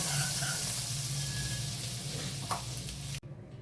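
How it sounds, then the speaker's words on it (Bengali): Masala poured into a hot wok of oil and butter for restaurant-style butter chicken sizzles with a loud, steady frying hiss that stops abruptly near the end. "কড়াইতে আবারও কিছুটা তেল আর বাটার একসাথে দিয়ে মশলাটা ঢেলে দেব।"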